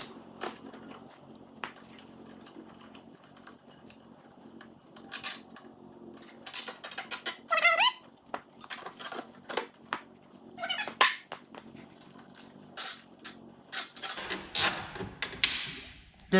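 Weather pack electrical connectors being fitted onto Honda 300 wiring make close, irregular small clicks, snips and plastic snaps, scattered throughout with brief pauses and no talking.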